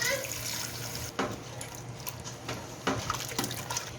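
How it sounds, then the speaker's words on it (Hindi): Water pours into a cooking pot of aloo gosht with potatoes and fried spices, a steady splashing stream with a few brief surges, close and moderately quiet. "अब इसमें मैं पानी ऐड करूंगी।"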